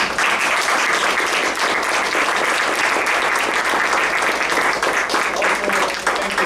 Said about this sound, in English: give a warm round of applause to this whole team